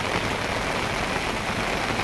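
Rain falling outdoors, a steady dense hiss of drops at even loudness throughout with no talking.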